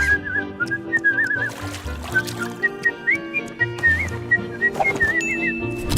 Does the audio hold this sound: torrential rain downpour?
no